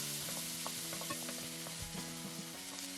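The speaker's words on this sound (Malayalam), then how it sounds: "ഇനി സ്റ്റൗ മീഡിയം ഫ്ലെയിമിലേക്ക് വെച്ച ശേഷം ഏകദേശം 3 മിനിറ്റ് നേരം ഇടവിട്ടിളക്കി" Onions sauté over a medium flame in a pan for Kerala-style Ulli Theeyal, a steady close sizzle with soft scraping stirs and light clinks running throughout, no voices.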